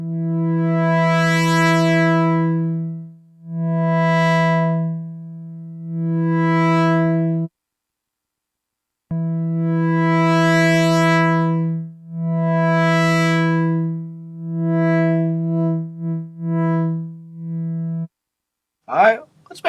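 A Sequential Pro 3 synthesizer playing through its 2-pole OTA filter, sustained buzzy notes that sweep up and down in brightness, several held tones separated by a brief silence, ending in quicker short notes.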